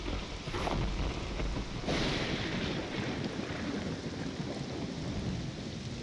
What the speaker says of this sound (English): the sounds of the storm